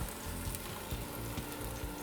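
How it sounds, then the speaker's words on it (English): Steady, dense sizzling from lamb frying in a hot pan for curry, continuous and close, with faint stirring scrapes. "we'll hear that nice sizzle sound"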